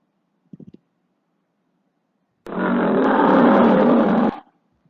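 A lion roars once in a sustained, loud, close burst lasting about two seconds, preceded by a few quick faint clicks and followed by silence.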